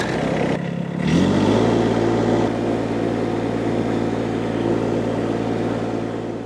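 An Iseki SXG327 commercial-grade ride-on lawn tractor with a 21-horsepower diesel engine cranks and fires up, then settles into a steady, loud, close idle drone, with no voices.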